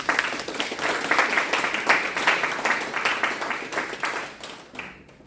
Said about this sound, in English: Sarah, let's give her a round of applause.